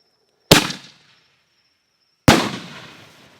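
Chroma shell fireworks bursting outdoors: two sharp, loud bangs about two seconds apart, each followed by a ringing, echoing decay into quiet.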